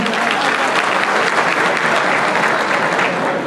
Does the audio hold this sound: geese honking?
no